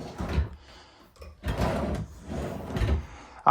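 Wooden kitchen drawers in a 2026 Keystone Sprinter 3840LRK travel trailer slide open and shut several times in succession, close and fairly loud, each glide ending with a soft knock.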